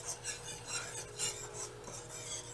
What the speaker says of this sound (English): whisking this so it doesn't stick to the bottom or sides